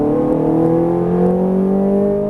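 A Ferrari 430 Scuderia engine pulls hard under full throttle on a track, its loud, close, harmonic wail climbing smoothly in pitch as it accelerates.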